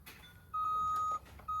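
Several short electronic beeps sound in a quick, uneven series, the middle tone held longer, faint against a quiet background.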